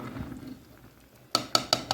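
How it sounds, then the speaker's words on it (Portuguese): A spoon works against the bottom of a pot of soft-cooked beans. A faint low scrape comes first, then four quick, bright metallic clinks close together. "Dá uma bela raspada lá no fundo com a colher."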